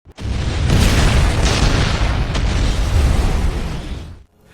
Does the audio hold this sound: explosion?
yes